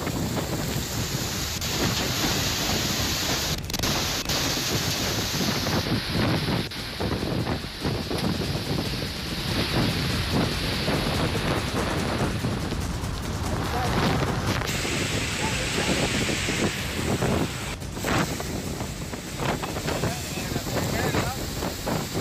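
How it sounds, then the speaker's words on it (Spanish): A strong windstorm roars at the port of Iztapa in Escuintla, a loud, continuous, gusting rush of wind that fills the whole clip without letup. "el ventarrón que fue grabado en el puerto Iztapa"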